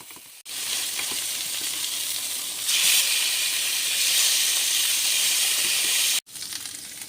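Chicken pieces sizzle loudly in a hot pan, a steady broad hiss that swells brighter partway through, with brief silent gaps at the start and end.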